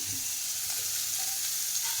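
Tomato and spices sizzle steadily in hot oil for a potato curry, giving a continuous close hiss with faint crackles and no talking.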